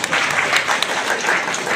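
Warm applause from a church congregation at a Christmas praise service, a dense, steady patter of many hands clapping at once for close to two seconds, fairly loud throughout with a few sharper individual claps standing out.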